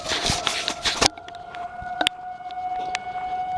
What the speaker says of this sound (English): That siren. It's one that actually works.